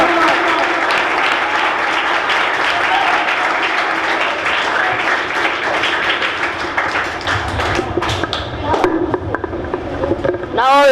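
Steady, dense applause from an audience at a high school special program fills the hall for several seconds, tapering slightly near the end.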